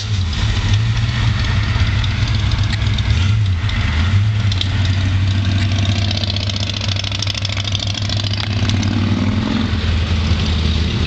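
A 1965 Ford Mustang fastback with a 289 V8 idles steadily, a deep, even rumble recorded up close that holds unbroken throughout.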